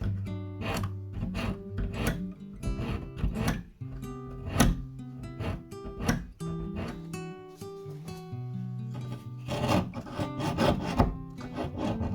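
A scribe scratching a mark on a C3 Corvette hood during hood removal, heard as close, continuous scraping and rubbing strokes that come in uneven bursts.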